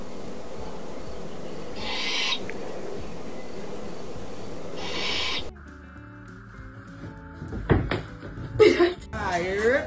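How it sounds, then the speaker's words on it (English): Two short, bright calls come from a baby owl about three seconds apart over steady background noise. The scene then cuts to clattery, uneven knocks and scrapes. "Have you ever seen a baby owl this curious?"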